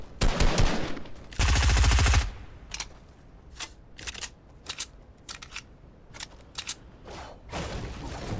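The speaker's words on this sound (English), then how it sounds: "Shoot your stupid gun." Gunfire in the video game Fortnite: a loud dense automatic burst, then a string of separate sharp shots spaced irregularly, with no talking over it.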